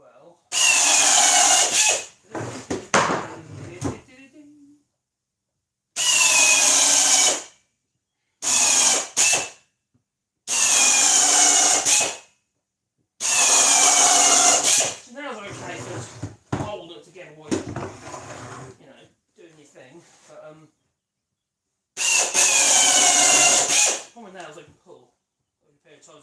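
Power drill driving screws into wood, several loud bursts of whirring a few seconds each with quiet gaps between, plus some softer mechanical clatter.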